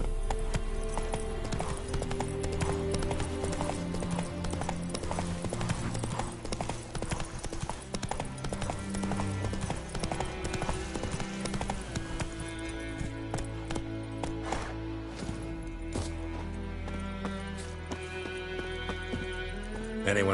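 Horse hooves galloping steadily in The Witcher 3, a continuous rapid clip-clop rhythm over a layer of game music and ambience, loud and close throughout with no pauses.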